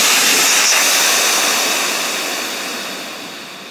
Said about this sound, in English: This will allow all the air to come out.